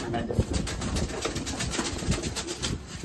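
Pigeons cooing in low, throaty bursts amid busy background noise, with a voice speaking briefly.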